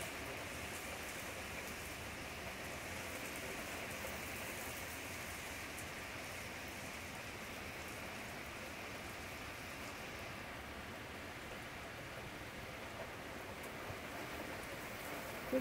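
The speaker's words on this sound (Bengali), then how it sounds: "ঝমঝমিয়ে বৃষ্টি পড়ছে।" Heavy rain pours steadily on a summer evening, a broad, unbroken roar of drops on surfaces that stays dense and even throughout, with no voices.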